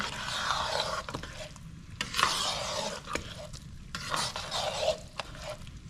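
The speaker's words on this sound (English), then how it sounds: "So you put the flame very low and you stir, trying to not allow it to get clumpy" Cornmeal stirred in a pot over a very low flame for tun, a spoon scraping and sweeping through the thick mixture in steady repeated strokes, close and fairly quiet, with no one talking.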